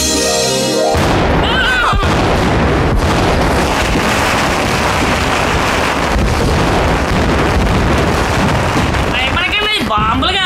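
Firecrackers burst in a loud, dense, continuous barrage of crackling booms during a film scene, with voices mixed in beneath the noise.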